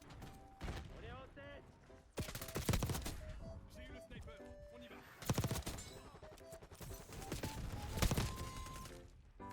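Bursts of AS-Val suppressed rifle fire in Black Ops 6 come in rapid clusters separated by short pauses, with mechanical clatter and game sounds between.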